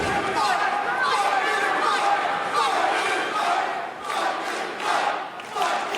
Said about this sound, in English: And you hear the crowd, fight, Billy, fight.